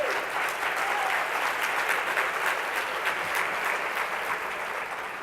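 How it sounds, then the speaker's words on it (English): Sustained applause fills a room at an annual luncheon, a crowd clapping densely and evenly for several seconds before easing slightly. "I want to make sure you stand up and get another round of applause"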